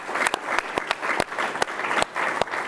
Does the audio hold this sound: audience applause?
yes